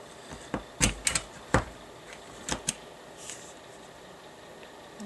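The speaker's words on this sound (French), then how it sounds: "Et maintenant j'utilise ma perforatrice ici qui va me permettre de perforer au milieu de ma page" A hole punch pierces a folded birth-announcement card, making two small holes on the fold for a ribbon. A few sharp, close clicks and thumps arrive in two short clusters over a quiet background.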